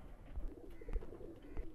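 A pair of red-eyed golden pigeons with alif-shaped beaks coo softly, low throaty burbles repeating against a faint background with a few soft thumps.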